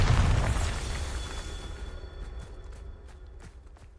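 A Bombarda blast spell from Hogwarts Legacy, one heavy booming burst that opens loud and then rumbles and fades away over several seconds, with faint scuffing steps near the end.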